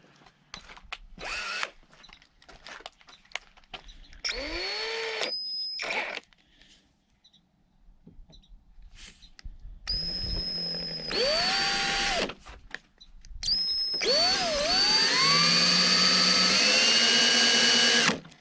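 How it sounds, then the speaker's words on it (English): A power drill whines in three separate bursts while drilling out a Jeep Wrangler tailgate hinge pin, spinning up and down with a high grinding pitch, separated by short pauses with light clicks and handling noise. "I need a smaller drill bit to start with."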